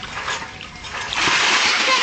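Water splashes and sprays loudly during a crocodile feeding, a continuous churning splatter that swells toward the end, close up with voices mixed in.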